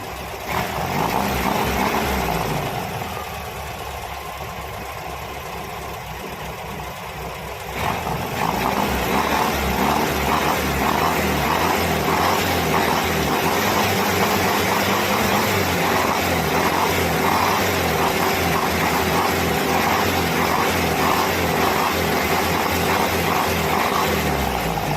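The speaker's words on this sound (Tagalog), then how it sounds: "pa-startin natin mga boss. Tingnan natin kung aandar." Porsche 356 engine cranks and fires after a few seconds, then settles into a steady, rhythmic running idle with an even, pulsing drone that continues to the end.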